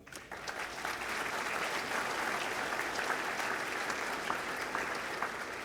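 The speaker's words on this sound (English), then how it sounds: "So again, applause for all of them as well." A dinner audience applauds military members, some in uniform, with steady, dense clapping that fills the room at an even level from start to finish.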